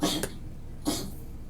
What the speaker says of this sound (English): One of my doggies is coughing.